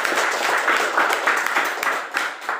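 Applause for a presenter at an Indonesian university teaching session, a modest room of hands clapping in uneven bursts, moderately near and fairly quiet, no talking over it.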